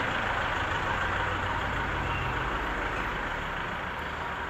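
A modern Philippine jeepney's large diesel engine idles with a steady low rumble, constant and fairly close, with no voices over it.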